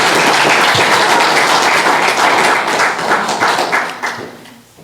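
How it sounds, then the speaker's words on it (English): A round of applause for Hudson at a church gathering: dense, steady clapping from a room full of people, loud at first and thinning out as it fades over the last second. "let's give Hudson a round of applause"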